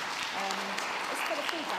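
Audience applause at a community harvest gathering honouring a food bank, a steady wash of clapping that stays at a fairly even level, with faint voices mixed in underneath.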